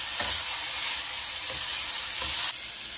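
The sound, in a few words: stirring pre-boiled chicken in a pot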